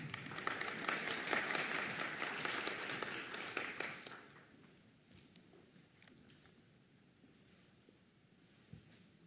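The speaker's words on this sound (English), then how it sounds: "Another round of applause for our executive leadership MSN graduates." Applause at a nursing graduation ceremony: a crowd claps loudly and densely for about four seconds, then it thins to scattered, fading claps and faint rustling.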